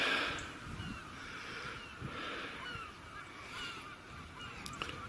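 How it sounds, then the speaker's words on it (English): Distant gulls call with harsh, honking cries over a steady outdoor background hiss, no voices present, near a closed paper mill site in West Somerset. "I still hear seagull sounds from that direction"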